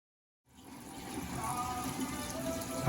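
Water from a portable washing machine discharges through a drain pipe that runs under a sink to a tee, starting after a brief silence as a steady, rising gush that continues to the end.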